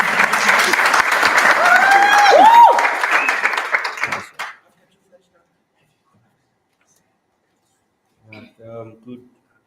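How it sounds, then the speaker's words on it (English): An audience at a community dialogue meeting applauds the speakers with a dense burst of clapping lasting several seconds before it cuts to silence. A voice then speaks briefly. "A warm hand of applause, please, for our speakers."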